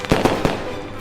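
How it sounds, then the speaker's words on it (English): Fireworks at a bonfire gathering go off in three loud, sharp bursts in quick succession, each followed by a lingering rumbling wash of sound. "All those fireworks and instruments brought to you by China."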